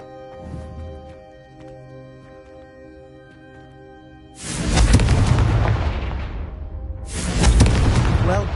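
Two loud, booming explosions from the Confringo explosive spell cast in a PS4 video game: a first blast rumbling out over a second, followed by a second blast that erupts close by, with faint game ambience before them.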